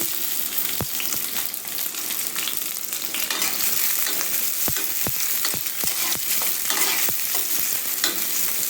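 Chopped onion and garlic frying in oil in a pan, a loud steady sizzle with repeated sharp scrapes and taps of a spatula stirring, close and without voices.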